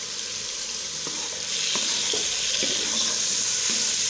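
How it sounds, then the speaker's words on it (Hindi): Potatoes with turmeric and salt sizzle steadily in a frying pan while a spoon scrapes and stirs them in a few soft, irregular strokes. "और अब मैं कर लूँगी अच्छी तरीके से मिक्स।"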